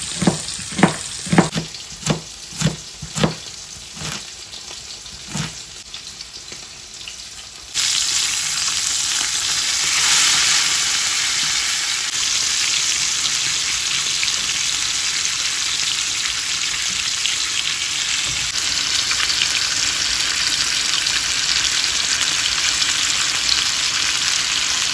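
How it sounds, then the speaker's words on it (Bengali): Hilsa fish and eggplant fry in a pan, starting with a few sharp clatters and stirs before a loud, steady sizzle fills the rest, close and continuous. "ইলিশ মাছ আর বেগুনের পোর্শনটা ভাজা হয়ে গেছে"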